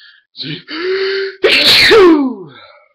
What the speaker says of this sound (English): Sorry for that sneeze.